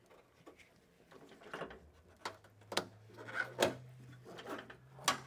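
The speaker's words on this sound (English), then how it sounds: "First we'll actually undo these clips so that when it comes off we don't have to do that." Plastic trim clips on the rear spoiler of a G37 Coupe being pried and undone, giving a series of close, quiet snaps, rubs and clicks that grow slightly louder toward the end, with no talking.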